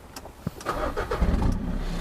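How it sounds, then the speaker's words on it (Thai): A Ford Ranger pickup truck engine cranks over and catches, settling into a loud, rumbling idle close by. "เดี๋ยวสตาร์ทรถก่อน"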